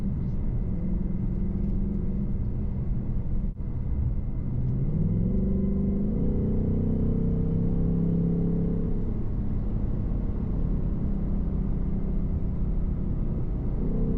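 A 2024 Ford Mustang GT RTR runs at speed down a curvy road, heard from inside as a steady, loud low engine rumble and road roar that shifts gently in pitch as it accelerates through bends.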